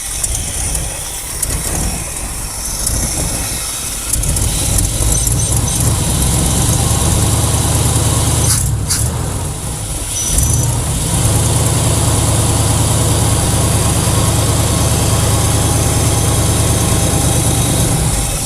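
Abandoned Dodge Power Wagon service truck with its engine idling loud and close, a steady low rumble with a brief dip in the middle before settling back into a continuous idle.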